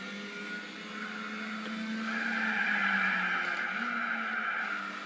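Car engine droning while driving in a PlayStation 2 racing game, a steady tonal hum that swells and shifts in pitch as it revs, with no voices.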